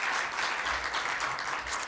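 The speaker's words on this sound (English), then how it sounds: "Oten, the first female president of the RMI, you can give her a round of applause." Full, steady round of audience applause at a women's leadership event, dense clapping from a crowd throughout with no talking.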